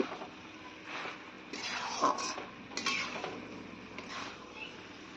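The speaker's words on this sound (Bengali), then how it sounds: "ধনে পাতা দেওয়ার পর এবার ভালো করে মিশিয়ে নিচ্ছি" Spicy dry fish being stirred together with a little coriander leaf in a pan, heard as scattered utensil scrapes and light clinks against the pan, with a couple of sharper knocks, fairly close and with no voices.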